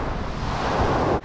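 Ocean surf waves roll in a steady, loud, continuous roar mixed with wind buffeting the microphone, then drop out abruptly for a moment near the end.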